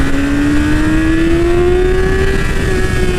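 A 2017 Yamaha R6 sport bike's inline-four engine revs high and loud up toward its shift point, a sustained rising whine with a steadily climbing pitch heard close and alone.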